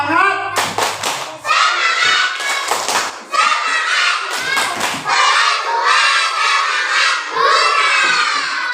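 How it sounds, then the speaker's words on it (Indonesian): Second-grade schoolchildren clap a rhythmic cheer, loud shouted chanting punctuated by group claps and thumps in repeated bursts, close and energetic. "tepuk semangat"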